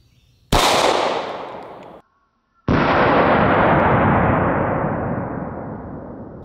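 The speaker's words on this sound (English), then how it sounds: "Shooting it out of the Glock 19." Two loud, close 9mm shots from a Glock 19 pistol are fired into body armor on a torso. Each sharp blast is followed by a long ringing decay, and there is a brief gap between the two.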